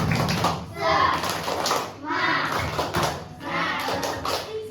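A group of students claps a rhythmic tepuk semangat chant in bursts of patterned hand claps mixed with young voices chanting along, loud and close.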